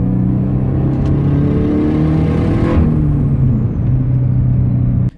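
A turbocharged Subaru BRZ/GT86 fitted with a Garrett G25-660 turbo kit pulls hard through the gears on the street, its engine droning steadily and loud with rising harmonics and turbo whir before a sudden cutoff.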